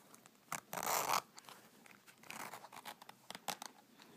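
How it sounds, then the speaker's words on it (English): The zipper of a Louis Vuitton Sarah wallet is opened and closed up close, a loud rasping pull followed by several shorter, quieter scratchy zips and clicks. "Opening and closing the zipper."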